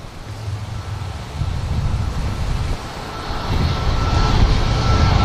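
A jet airliner takes off and climbs from Manchester Airport, a loud broad engine roar with rumbling wind buffeting that swells steadily, with no talk.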